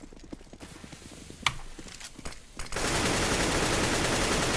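Counter-Strike gunfire on the Cache map comes as scattered distant shots and short bursts, then a dense, sustained roar of noise takes over partway through.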